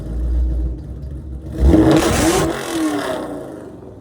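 A cammed 3-valve V8 in a 2005 Ford Mustang GT growls at idle and then swells into a loud, close rev through the exhaust that holds briefly and fades back down.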